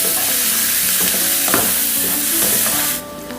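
Onions fry in a pan with a loud, continuous sizzle, broken by the scrape of stirring, and no one speaks over it.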